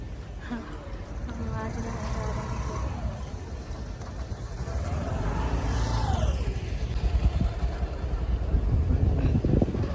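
A car drives along the road toward Nashik Road, a low engine and road rumble mixed with wind buffeting that grows louder toward the end, while people talk over it throughout.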